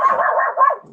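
A dog lets out a single loud, close bark, a sharp yelp that trails into a brief low grumble.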